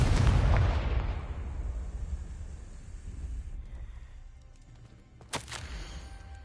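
A Confringo spell explodes in a video game with a big, loud boom that fades into a long rumbling decay, followed by a sharp crackling burst near the end.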